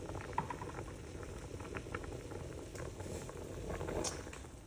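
Rice water boiling hard in a pot on the stove, a steady bubbling and popping wash that holds at even loudness for its whole length with no one talking.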